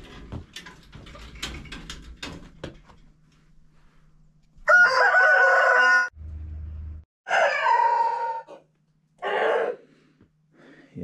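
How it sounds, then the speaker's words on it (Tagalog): Pet chickens and a rooster on a frosty morning, with a rooster crowing loudly in several long bursts near the mic, preceded by scattered clucks and rustling movement. "Ito yung mga alaga kong manok, palabasin ko sila"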